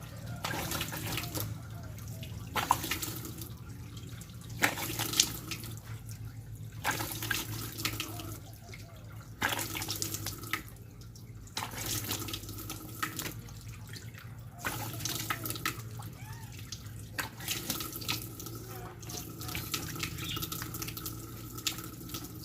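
Water runs from a sink tap to rinse soap foam off, in a steady close splashing stream that pulses and changes as hands move through it, with no talking over it.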